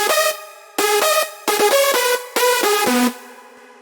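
Big room lead synth with a transient enhancer, bright and buzzy, playing four punchy chords with sharp attacks and short gaps, loud and alone.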